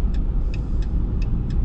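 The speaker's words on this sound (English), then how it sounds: "Sound like a Suzu truck" An Isuzu truck drives past with a steady low engine rumble, close and fairly loud, accompanied by a series of faint, evenly spaced high clicks or ticks.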